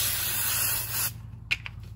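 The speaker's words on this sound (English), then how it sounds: "take your brake parts cleaner, spray it down" Brake parts cleaner hisses from an aerosol can onto a brake rotor of a Honda Civic Mugen during front brake work, a loud steady spray lasting about a second before cutting off, followed by faint clicks.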